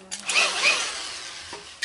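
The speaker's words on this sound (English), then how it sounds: "And I'm drilling these holes about a half inch from the end of the pipe." Power drill boring a hole into a pipe about half an inch from its end, one short steady whine of the motor that stops abruptly, close up.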